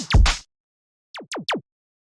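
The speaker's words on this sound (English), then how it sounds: "So the next thing we have are these little zaps" Little electronic zap samples for a Flying Lotus-style cosmic beat: a broad noisy burst first, then three short descending zaps in quick succession, crisp and close with silence between.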